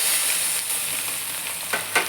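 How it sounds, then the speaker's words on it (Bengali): Eggplant pieces fry in oil with turmeric, chili powder and salt, giving a steady close sizzle with a couple of faint stirring scrapes near the end. "এটাকে অল্প নাড়াচাড়া করে একটু ভেজে নেব।"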